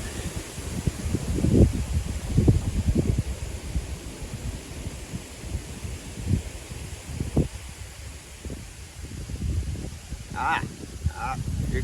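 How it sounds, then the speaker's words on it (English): Outdoors, gusty wind buffets the microphone in low rumbling bursts with steady rustling hiss underneath, rising and falling over several seconds, with a couple of brief higher-pitched sounds near the end. "Now the wind's gusting."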